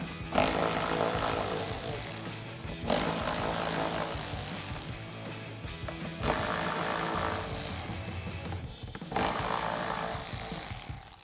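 A power driver spins out T30 bolts from the third brake light mount on a 2021-2024 Ford Bronco, four loud buzzing bursts of a few seconds each separated by short pauses.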